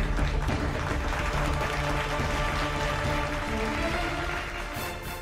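Lawmakers of the US Congress applauding Ukrainian President Zelensky, a steady, dense wash of clapping from a large chamber crowd that holds evenly throughout, with faint low tonal hum beneath.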